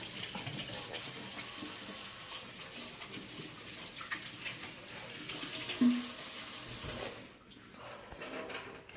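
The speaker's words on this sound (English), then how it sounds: "Let's wash our hands" Hands being washed under a running kitchen tap while stew is prepared: a steady broadband rush of water, close and continuous, that briefly thins out near the end.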